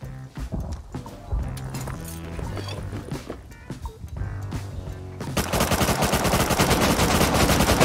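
Rapid automatic gunfire from a video game shooter, dense bursts of loud shots rattling over a busy mix of game sounds, building into a heavy sustained barrage near the end, no speech.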